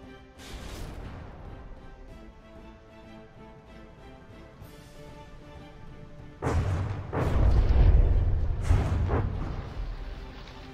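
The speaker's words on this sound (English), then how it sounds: "That just heavy barrage." Heavy artillery barrage in the naval combat game From the Depths, with dense rumbling booms building up and peaking in a loud cluster of blasts toward the end, no talk.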